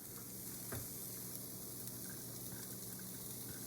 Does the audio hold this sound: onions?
yes